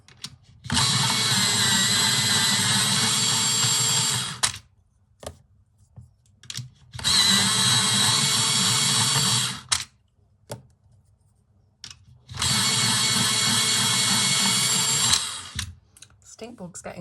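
An electric pencil sharpener grinds coloured pencils in three steady bursts of about four seconds each, separated by short pauses with faint handling noises, close and fairly loud.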